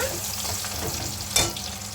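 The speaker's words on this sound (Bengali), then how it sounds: "পিঁয়াজ কুচি দিয়ে দিলাম" Chopped onions fry in a pan with a steady, close sizzle throughout, and one brief stirring scrape partway through.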